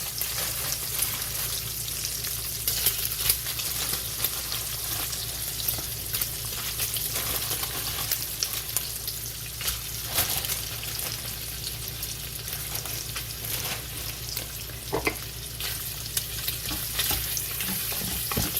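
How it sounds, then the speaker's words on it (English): Beef browns in a pan with rendered bacon, giving a steady, loud sizzle and crackle with scattered pops and stirring scrapes that carry on evenly throughout. "Now that the bacon has started to render, I'm going to add half of the beef to the pan"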